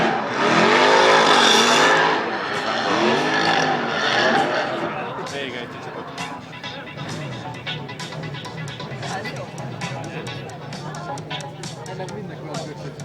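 A race car engine at a qualifying session in Pócs, loud revving and accelerating nearby before fading into a busy, rattly background, with someone talking over the engine noise throughout.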